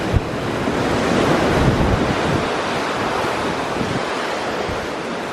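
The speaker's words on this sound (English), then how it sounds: "Still wavy, and now it's raining." Steady broadband wash of rough sea waves and wind aboard the NCL Getaway cruise ship, with rain falling, continuous and fairly loud throughout, with no voices.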